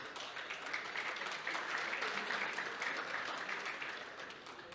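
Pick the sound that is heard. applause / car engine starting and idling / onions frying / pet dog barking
applause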